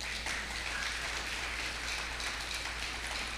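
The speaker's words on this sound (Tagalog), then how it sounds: "Bigyan po natin uli ng isang malakas na palakpak ang Panginoon po natin" Congregation at a church service applauding the Lord: a steady, dense wash of clapping from a crowd, continuous and even throughout, fairly distant, with no voices over it.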